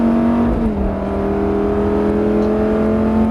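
A race car engine drones loud and steady, accelerating on the track at Nogaro, with a sustained tone that dips slightly and then holds, heard close up from inside the car with no talking.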